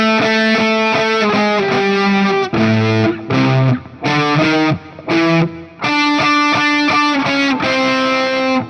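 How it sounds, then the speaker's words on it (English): Electric guitar played through a fuzz pedal, hammering out a loud octave riff with rhythmic stops and restarts, thick distorted harmonic tone, no talking. "kick on a fuzz pedal and hit some octaves, and it would sound unreal"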